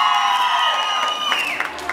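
Crowd of wedding guests in a restaurant clapping and cheering, a continuous dense wash of applause with scattered shouts and ringing tones over it.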